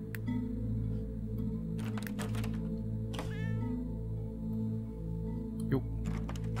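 A cartoon cat gives a single rising meow in the puzzle video game Hidden Paws, set over steady looping background music with scattered sharp clicks before and after.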